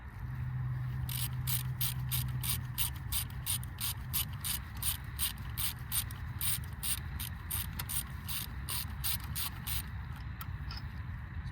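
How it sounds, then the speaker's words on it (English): An 8mm socket ratchet clicks in a fast, even run while undoing the bolts on the high-pressure fuel pump of a Mini Cooper S N14/N18 engine, close and steady over a low hum of background noise. "Get our 8mm socket. And we're going to just undo the 3 bolts for the high pressure fuel pump here."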